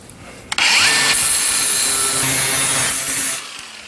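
A sink pop-up drain rod is cut with a handsaw in a steady, close rasping stroke that runs for about three seconds before stopping, with no talk.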